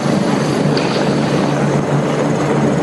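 A rescue helicopter used by mountain rescuers at an avalanche scene gives off a loud, steady rotor and engine roar that stays close and even throughout, with no voices.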